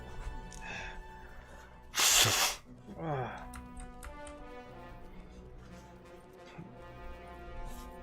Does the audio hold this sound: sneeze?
yes